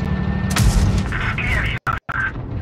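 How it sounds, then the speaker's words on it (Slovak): Tank cannon fire in the mobile game World of Tanks Blitz, played with the E-10 and KV-1 tanks: a loud boom lands about half a second in, followed by rumbling battle noise and short sharp dropouts. "teraz do mňa každý strieľa"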